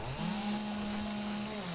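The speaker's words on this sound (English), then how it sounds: "Back to the chainsaw." A chainsaw in the 7 Days to Die video game drones steadily at close range, a continuous loud engine whine cutting into trees, with no talk over it.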